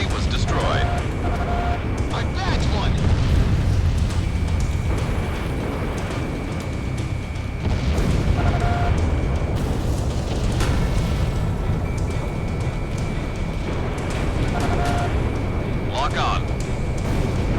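Jet combat in Ace Combat 6: Fires of Liberation, with a missile launching and explosions over a steady roar of aircraft engines, plus short repeated electronic warning tones, loud and continuous for the whole stretch.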